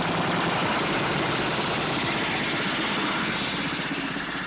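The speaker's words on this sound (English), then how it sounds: "Destiny Angel, helicopter A42 is firing at me." Helicopter A42 firing a machine gun in a 1967 Captain Scarlet puppet-series sound effect: a dense, continuous rattle of rapid gunfire layered over a steady roaring rotor and engine, loud and unbroken throughout.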